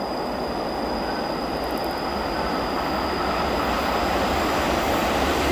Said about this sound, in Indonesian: Selanjutnya ada kereta api Argo Semeru